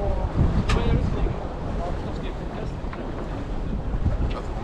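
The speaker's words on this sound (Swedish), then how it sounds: "Vi har vind här." Wind buffets a sailing boat during a club race, a loud continuous roar of gusts against the microphone with faint water wash beneath.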